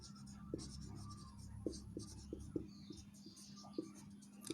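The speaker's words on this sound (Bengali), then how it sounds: "আবারও আমরা লিখব সংখ্যাটি x" A pen scratches on paper as someone writes numbers and words by hand, faint close scratching strokes with soft taps scattered at irregular intervals over a low background hum.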